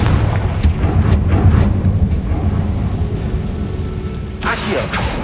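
A Confringo fire spell explodes in the video game Hogwarts Legacy, a rumbling booming blast with crackling bursts amid continuous game noise and a speaking voice.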